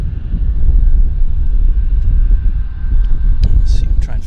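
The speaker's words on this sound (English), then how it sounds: "This baby Boeing is headed to Calgary. It's the Westjet 108." A WestJet Boeing jet departing Vancouver Airport for Calgary gives a steady, loud engine roar with wind-like rumble throughout, and a few faint clicks near the end.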